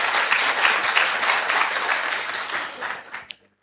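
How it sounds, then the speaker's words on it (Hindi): An audience at a spiritual organisation's gathering breaks into dense, sustained clapping that fills the room, then thins out and stops abruptly. "तो एक बार आप लोगों के लिए बहुत अच्छे से तालियां बजा"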